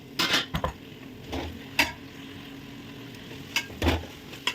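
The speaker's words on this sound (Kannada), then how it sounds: "ಪಾಲಕ್ಕು, ಮೆಂತ್ಯ ಲೋ ಫ್ಲೇಮಲ್ಲೇ ಸ್ವಲ್ಪ ಫ್ರೈ ಆಗಿದೆ." Mint, fenugreek and spinach stir-fried on a low flame for chicken biryani, with a spatula clinking and scraping against the pan in several sharp bursts over a quiet background sizzle.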